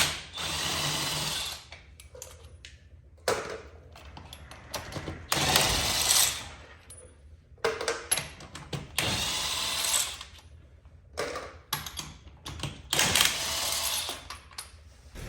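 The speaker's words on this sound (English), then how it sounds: "So now it's just a matter of zipping off the lug nuts and stacking up the tires." A power tool zips lug nuts off Jeep TJ and YJ wheels running 35-inch tires, in several loud, sharp bursts separated by short pauses.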